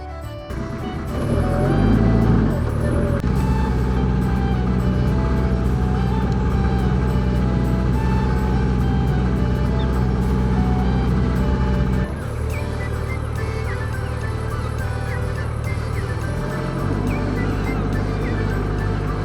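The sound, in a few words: short ferry ride across Salcombe estuary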